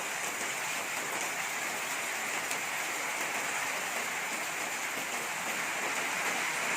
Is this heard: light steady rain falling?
yes